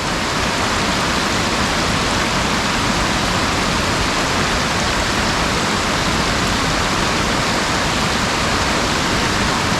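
Steady, roaring rush of falling water, loud and close, a continuous broadband hiss with no pauses and no voices.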